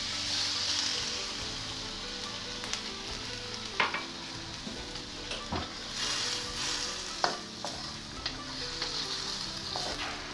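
Tomatoes are stirred into long beans and tofu in a hot pan, giving a continuous loud sizzle punctuated by scattered spatula scrapes and clinks.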